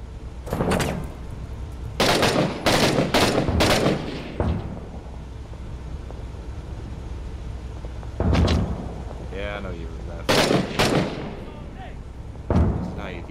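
Gunfire in the military shooter video game Six Days in Fallujah, sharp bursts of several loud shots in quick clusters on a street, with a pause and further volleys later, under occasional speech.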